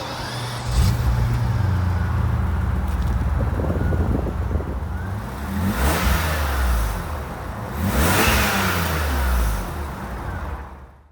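A 1991 BMW 850i with a V12 engine and manual gearbox pulls away on the road, its engine revving up in two strong surges amid steady wind and road noise, heard from inside the car.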